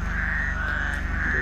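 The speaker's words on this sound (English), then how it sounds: "you can hear the frogs." Frogs croak at night around a villa in Medellín, a dense, steady chorus of rapid pulsing calls filling the air without pause, fairly loud and close, with no talking.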